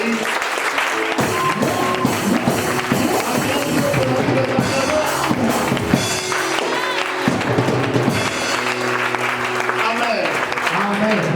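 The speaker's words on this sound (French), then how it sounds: "j'aimerais qu'on acclame Dieu pour le pasteur Ali" A church congregation applauds loudly and continuously during a Sunday service, a dense wash of clapping that fills the space, mixed with cheering voices and someone speaking over the crowd.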